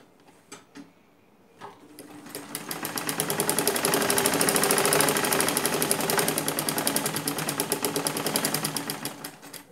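A sewing machine stitches light fabric for a pleated face mask. A few soft clicks come first, then the motor winds up into a rapid, even mechanical chatter that swells, holds steady and eases off near the end.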